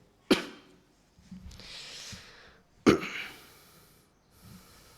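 Two sharp, close coughs a few seconds apart from a man teaching a hadith class, each followed by breathy exhalation, in a quiet room with no talking.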